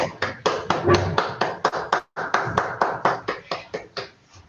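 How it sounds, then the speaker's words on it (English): Applause at a Toastmasters district workshop, with a small group clapping in uneven bursts, a brief pause midway, then steadier clapping that thins and fades toward the end. "Can we have a huge round of applause for our Club Growth Director,"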